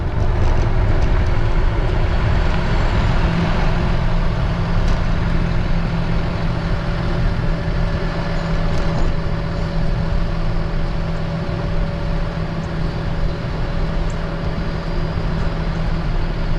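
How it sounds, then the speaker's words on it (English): A 450 horsepower Cummins diesel motorhome engine rumbles at low speed in a continuous, steady drone. It is heard close up with no speech over it. "that's what 450 horsepower of Cummins diesel sounds like when it's just poking along"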